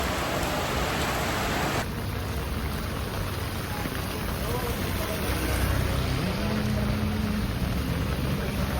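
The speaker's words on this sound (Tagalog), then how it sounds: "It's been raining in Manila." Heavy rain pours in Manila, a loud, dense and unbroken hiss of water with a faint low engine-like rumble underneath.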